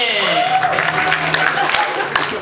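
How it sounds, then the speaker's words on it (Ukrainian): Audience applause greets a contestant at a student comedy competition, dense clapping that fills the room at close range while a voice talks over it. "Запрошуємо його оплесками."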